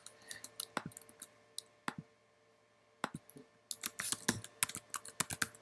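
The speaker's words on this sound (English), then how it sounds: "Type in the password" Keys clatter close on a computer keyboard as a password goes in, short bursts of quick taps split by brief pauses, ending in a denser flurry of clicks, with no one speaking.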